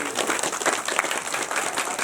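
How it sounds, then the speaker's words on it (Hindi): A crowd at a closing ceremony of a Maa Chandika religious gathering in Uttarakhand gives an honoree a burst of dense, continuous applause, loud and steady throughout. "आप उनका जोरदार तालियों से स्वागत कीजिए"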